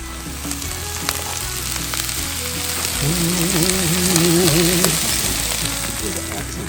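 Red and green peppers, broccoli, potatoes, red onion and mushrooms sizzle on a Kudu wood-fired grill outdoors, a steady close crackle with a brief tonal hum in the middle and faint background voices.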